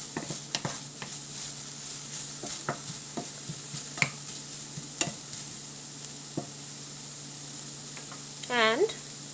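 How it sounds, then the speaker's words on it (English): Onions stirred in a frying pan while cooking a spicy broccoli yogurt curry, with irregular scraping clinks of a utensil over a faint steady sizzle and a brief voice near the end. "Stir it well again."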